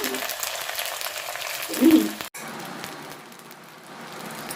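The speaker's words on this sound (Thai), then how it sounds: "หลังจากที่ทอดนะคะ แล้วเรากลับเขาสองด้านนะคะ" Pasta frying in hot oil gives a steady broadband sizzle with a brief louder burst partway through, then drops to a quieter, continuing fry.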